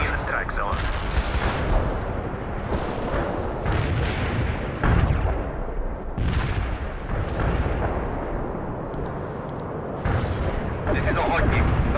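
Artillery barrage in the World in Conflict strategy game: dense, continuous rumbling booms and gunfire, loud and sustained throughout, with radio-style voices talking over the battle.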